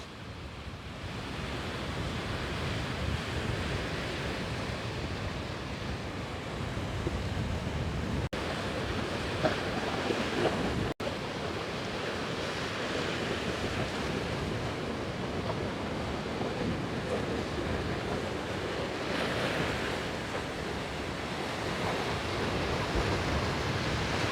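Sea waves surging ashore in a continuous rushing wash of surf, steady and fairly loud, mixed with wind noise and no voices.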